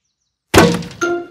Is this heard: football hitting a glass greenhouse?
yes